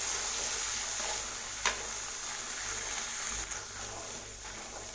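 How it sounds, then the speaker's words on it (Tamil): Boiled black chana and cumin frying in hot oil as they are mixed in a pan, a steady sizzle with occasional soft scrapes from stirring. "ஆட் பண்ணி இதை நல்லா ஒரு டைம் மிக்ஸ் பண்ணி விடுங்க. மிக்ஸ் பண்ணி இதை லேசாக வதக்கிக்கலாம்."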